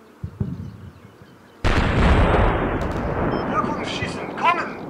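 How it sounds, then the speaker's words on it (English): Howitzer shells landing in Combat Mission Shock Force: a sudden heavy blast followed by a long rolling rumble of impacts, loud and full, with voices faintly audible before and during. "The howitzers are landing on the Syrians that are in the rubble."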